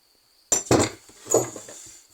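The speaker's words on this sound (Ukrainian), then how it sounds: "Забачте, я сильно не стукаю, так слегка постукаючи." Light hammer taps on a metal engine part near the crankshaft, heard as two close, sharp metallic knocks with ringing decay, the second softer, preceded by a thin steady whine.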